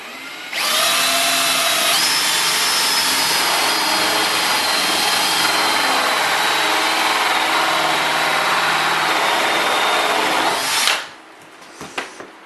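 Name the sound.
power drill drilling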